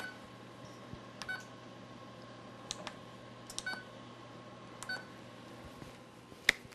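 An oven timer is set in a kitchen while focaccia bakes: a handful of short, faint electronic beeps spaced irregularly over a steady background hum.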